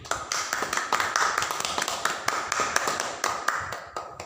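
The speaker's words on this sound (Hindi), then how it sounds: "जोरदार एक बार सभी लोग ताली बजाइए।" A church congregation clapping hands together during a Hindi sermon, a dense rapid patter of many claps with sharp taps standing out, steady and fairly loud for about four seconds with no talking.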